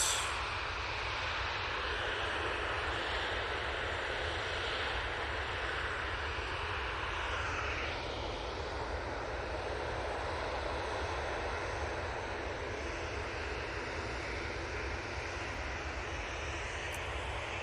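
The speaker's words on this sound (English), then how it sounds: "This is 319 for EasyJet coming in from Alicante now" An EasyJet Airbus A319 arriving from Alicante roars steadily overhead, a broad continuous engine rush that swells and shifts in pitch midway as it passes.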